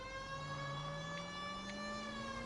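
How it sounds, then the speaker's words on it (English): A police car siren in the video game L.A. Noire wails steadily, its rising tone sweeping slowly upward, loud and continuous with no talk over it. "Turn off the siren"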